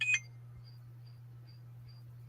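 A phone notification beeps, faint and high, five evenly spaced times over a steady low hum, after a short sharp sound at the start.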